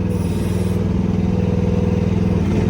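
An engine easing down from a rev, a steady low throbbing drone with even pulsing, close and fairly loud, holding a constant level with no voices.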